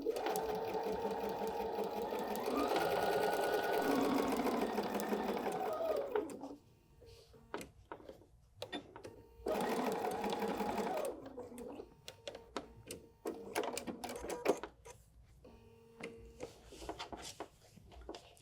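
Close sewing machine stitching a pillow wrap with a 1/4 inch foot, a long steady whirring run, a pause with light handling clicks, another burst of stitching and scattered taps, no voices.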